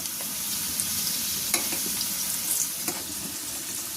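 Pitha rice cakes deep-frying until crisp in a village kitchen, a steady bubbling sizzle close by with occasional sharp spatula clicks and scrapes.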